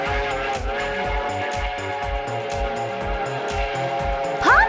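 A cartoon train rolls past with a rhythmic, repeating clatter over a humming background, ending in a short whistle-like sweep.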